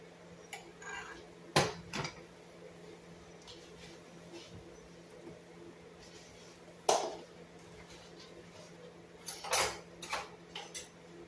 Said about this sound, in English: Now some mashed potatoes on our plate.